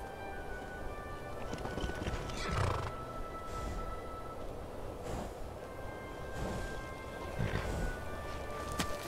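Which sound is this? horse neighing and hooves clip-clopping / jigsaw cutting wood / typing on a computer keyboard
horse neighing and hooves clip-clopping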